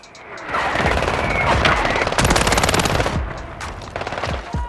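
Rapid automatic gunfire in the Warzone video game, including a close light machine gun, with long sustained bursts and scattered shots, loud and dense over a few seconds and no voices.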